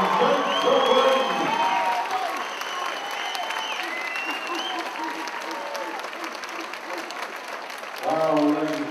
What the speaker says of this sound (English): let's have a massive round of applause for both guys here.